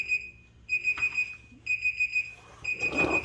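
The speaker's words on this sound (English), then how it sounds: "There's my alarm." An electronic alarm clock beeps in repeated bursts of rapid pulses, separated by short pauses, fairly loud and close, with some background noise near the end.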